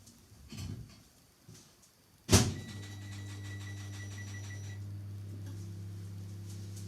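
A Tupperware Micro Pro Grill microwave oven at 900 watts cooks duck breast, starting with a sharp clunk followed by a steady low hum and faint ticking that runs on alone, close and moderately loud.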